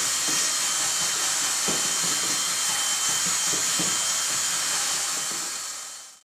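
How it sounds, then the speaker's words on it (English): A power drill with a whisk attachment whirs steadily with a high hiss while churning through thick paint for fresh plaster, a few soft knocks underneath, then the motor winds down. "I'm just going to mix it up with a whisk attached to my drill."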